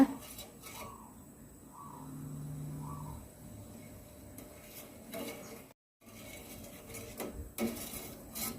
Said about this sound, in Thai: คนให้น้ำตาลมะพร้าว หรือน้ำตาลปึกของเรา ให้ละลายนะคะ คนจนน้ำตาลเราละลายนะคะ